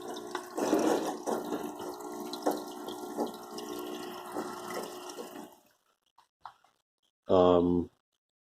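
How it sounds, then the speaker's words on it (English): Steady bubbling, gurgling water from an aquarium airstone runs continuously for several seconds, then cuts out to near silence before a short, louder burst of sound at the end. "I want that airstone to be deeper in the tank so that it causes greater water currents."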